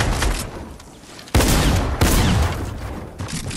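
Video game gunfire sounds as loud bursts of rapid shots, with two sharp heavy volleys cracking out midway over a busy background of game noise.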